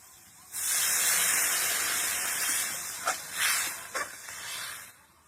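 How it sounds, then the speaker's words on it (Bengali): Water poured into a hot pan of lightly fried puti fish for a green tomato curry sets off a loud burst of hissing sizzle that gradually eases, with a few sputtering pops toward the end. "এরকম হালকা ভেজে নেবো বেশি ভাজবো না এবার জল দিয়ে দেবো"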